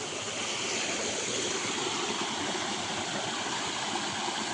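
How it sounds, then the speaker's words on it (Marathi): A small stream in rural Konkan flows along a footpath, making a continuous, even rush of water that sounds fairly close and steady, with no voices. "ते बघा हे पाणी तिकडे जातं आहे."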